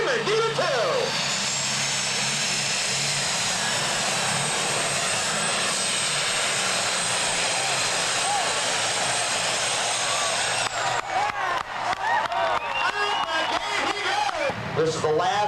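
A 1998 NTPA super stock pulling tractor, the Screamin' Demon 2, has four turbochargers and twin stacks. Its engine gives a loud, sustained, high-pitched turbo whine and roar, then turns into choppier revving bursts toward the end.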